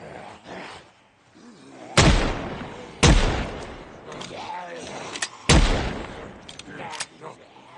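Gunfire in Project Zomboid as zombies are shot through a fence, three loud sharp reports spaced about a second apart plus a fourth a little later, with a voice talking quietly between shots.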